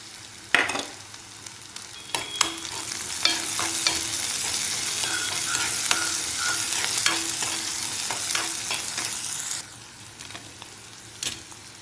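Onions, green chillies and beans for vegetable upma fry in a hot pan with a loud, continuous sizzle while a spoon stirs and scrapes, with sharp knocks at the start and end; no one speaks.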